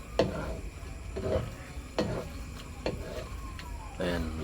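A spoon stirs sweet and sour sauce for fried tulingan fish, thickened with dissolved cornstarch, in a pan on the stove. Faint, soft scraping strokes repeat about once a second against a low sizzle.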